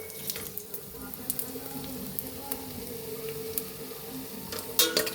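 Cashews and whole spices frying in oil for veg biryani, a continuous moderate sizzle with scattered small pops and crackles and a faint clatter near the end.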